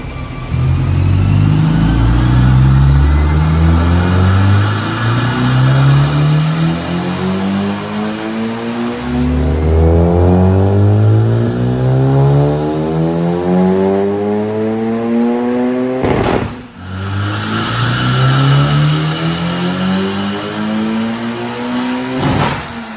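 A turbocharged Honda Civic Type R FK8 engine revs hard on a dyno, repeatedly climbing in pitch through gears in loud rising sweeps, with a brief drop before another pull.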